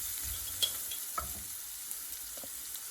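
Meat and curry fry in a pan for cavolo nero pasta with a steady, even sizzle and a few faint clinks of a spoon stirring. The sound is close but fairly quiet, and no one talks.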